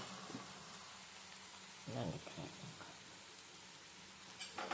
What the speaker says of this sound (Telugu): దీనిలో కరివేపాకు వేస్తాను.